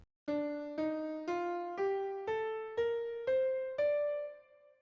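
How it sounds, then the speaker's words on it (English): Eight piano notes rise one after another in an even, steady rhythm, forming an ascending D Phrygian scale that ends on a sustained final note. "here's what D Phrygian sounds like"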